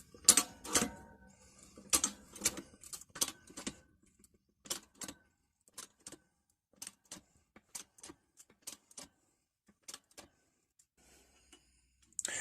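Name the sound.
hydraulic press pushing a socket through a tool head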